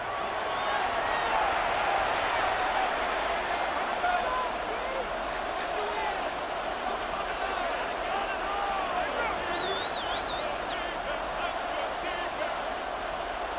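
A simulated stadium crowd in a Madden 26 NFL football game between the Packers and Eagles, a broad steady roar that keeps going under a commentator's voice.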